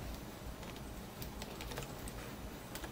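Faint clicks from a computer keyboard as a Ctrl key is pressed, a few light, scattered key taps over a steady background hiss.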